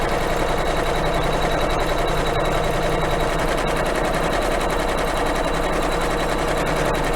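An embroidery machine stitches around the batting on a patriotic quilt pillow block, a loud, steady, rapid needle chatter that runs without a break, close up and with no talk.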